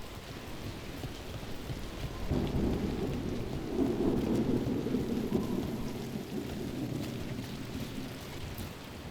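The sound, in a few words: rain and thunder in video game Dragon Age The Veilguard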